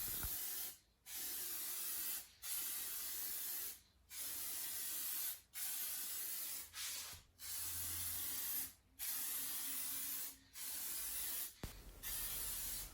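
Spray gun painting a car bumper in repeated bursts of steady hiss, about nine passes separated by short pauses, close and continuous, with no talk.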